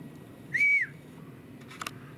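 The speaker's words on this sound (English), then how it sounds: "There's more whistles." A single sharp, high whistle sounds briefly, followed a moment later by a few fainter chirps over quiet outdoor background noise.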